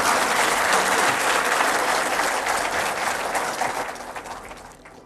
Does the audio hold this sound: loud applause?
yes